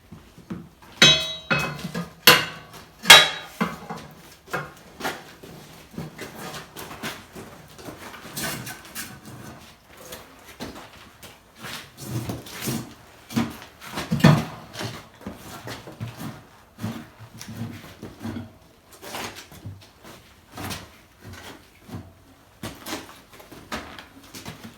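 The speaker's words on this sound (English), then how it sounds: "while we put the tyre on with the tyre lever" A tyre is levered onto a wheel rim for a 1970 Bolens 1253 garden tractor, producing irregular metallic clinks, knocks and scraping thuds of the tyre lever against the rim, close and sporadic.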